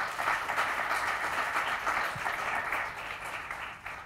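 Sustained applause from a conference audience at a Hong Kong climate forum, a dense steady wash of many hands clapping that fills the whole stretch without fading.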